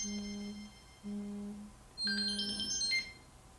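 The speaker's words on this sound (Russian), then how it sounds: "Браслет звонит на ваш телефон." A Samsung Galaxy Note 3 phone rings after a Samsung Gear Fit fitness band triggers find-my-device, giving short repeated tonal beeps followed by a brighter, higher chime burst, fairly faint in a quiet room.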